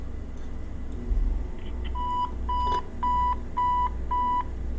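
An answering machine with a full memory gives a run of five evenly spaced electronic beeps, fairly loud and close, over a steady background hum.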